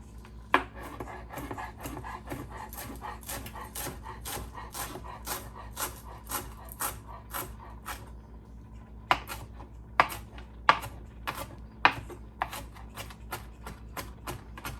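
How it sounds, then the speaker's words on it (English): Fresh parsley being chopped with a knife on a board, a run of sharp, close knocks in an uneven rhythm with a short pause partway through, over a low background hum. "I'm going to get our parsley chopped up."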